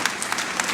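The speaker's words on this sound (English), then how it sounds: "address the gathering with a big round of applause." Applause at the inauguration ceremony of a national conference for CA students in Bangalore, a dense crowd of hands clapping loudly and continuously with no pause.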